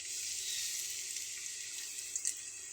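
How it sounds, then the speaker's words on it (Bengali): Potato sticks frying in hot oil in a frying pan give a steady, soft, hissing sizzle with a couple of faint pops near the end, and no one speaks. "খুব বেশি দিব না, 2 থেকে 3টা স্টিক দিয়ে ভেজে নেব"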